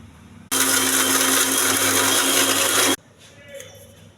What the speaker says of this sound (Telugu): మిక్సీ వేయాలి ఫస్ట్